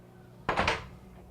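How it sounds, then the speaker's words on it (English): A drawer slides out of a cabinet inside a brand-new Supercross race team truck at Anaheim, giving one quick, fairly close rolling slide that fades out after about half a second. "Drawer slides out."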